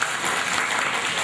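A crowd applauding steadily, dense clapping filling the whole moment with no pauses and no voices on top.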